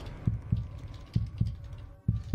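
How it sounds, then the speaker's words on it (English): Heartbeat sound effect from the Roblox game Flee the Facility: a steady, loud double thump, lub-dub pairs repeating about every second, heard alone without talk. "I hear my heartbeat."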